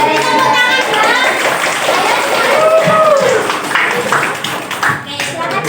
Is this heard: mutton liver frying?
no